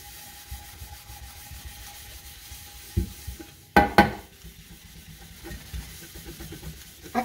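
An aluminium pan is scrubbed with cleaner, soft rubbing strokes close by and quiet, broken by a couple of sharper knocks of metal near the middle.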